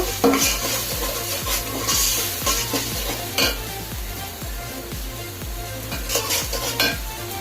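A blended garlic and onion paste fries in a pan while cooking koi fish curry in coconut milk, a steady sizzle under regular scraping strokes of a spoon against the pan, close and fairly loud.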